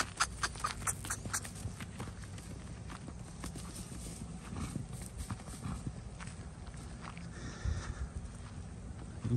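Mares on a ranch walk uphill with steady clip-clopping hooves, the clip-clops close and repeating irregularly across the clip, with brief voice and outdoor background.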